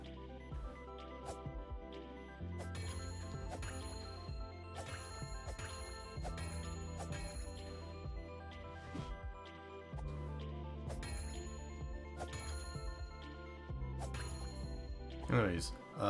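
Bells in a puzzle video game ring out in repeated bright, sharp chimes at irregular intervals over steady background music, with a person talking throughout.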